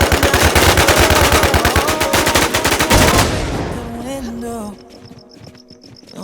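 Rapid bursts of video game gunfire in a Twin Force shooter session, loud and dense for about three seconds before tapering into sparse shots and chirpy game effects, with players talking over it.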